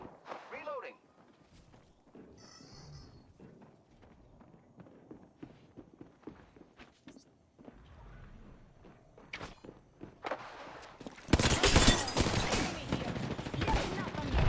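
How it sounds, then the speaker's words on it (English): Enemy gunfire in a shooter video game, with scattered shots and short bursts under ongoing game sounds and voice lines, and a loud, dense volley near the end. "The enemies are shooting at me."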